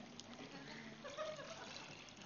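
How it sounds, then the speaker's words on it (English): Filthy water is poured into a water-purifying bottle, giving a soft, steady, close trickle that runs evenly for a couple of seconds with no talk over it. "So I'm going to take this really filthy water and put it in here."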